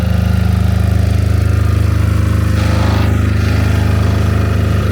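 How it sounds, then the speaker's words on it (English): A generator runs continuously at an Irish cottage during electrical work, a loud steady engine drone with a rapid pulsing throb that stays constant throughout, close by, with no speech. "excuse the noise of the generator"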